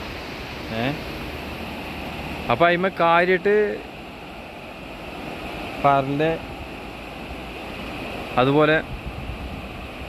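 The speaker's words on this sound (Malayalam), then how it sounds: "അങ്ങോട്ടാണ് വെള്ളം ഒഴുകണത്" River water flowing under the Parali bridge in Palakkad, a constant broad rushing wash beneath a few short bursts of nearby talk.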